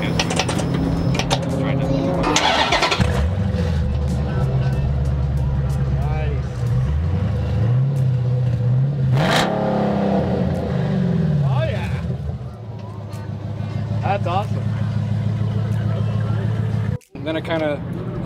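A Mopar car fitted with a Black Widow exhaust fires up and revs in several rising and falling swells, loud and close, with voices talking over the engine throughout.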